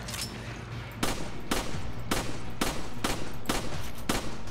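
Gunfire in the video game Resident Evil 5: a loud, rapid string of about seven sharp shots at uneven intervals over a constant background hum.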